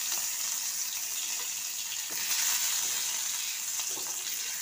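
Cashews, raisins and chopped green chili frying in hot oil give a steady close sizzle with small crackling bursts, continuous throughout with no voices.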